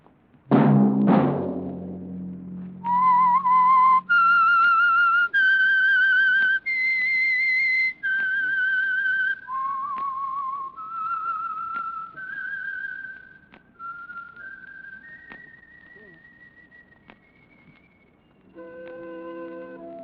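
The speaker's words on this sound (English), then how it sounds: "Let that whistle be your signal" The whistled theme of the radio mystery show The Whistler opens with a couple of low notes, then a clear, lonely melody of sustained pure tones that rises and falls and ends on a final low chord.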